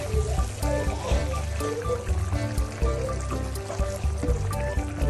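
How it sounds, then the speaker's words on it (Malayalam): Half a glass of boiling water trickles and splashes into a Kerala-style chicken curry in a steady, close pour over background music. "ഒരു അര ഗ്ലാസ് ചൂടുവെള്ളം നമ്മളതിനകത്ത് ഒഴിക്കുക."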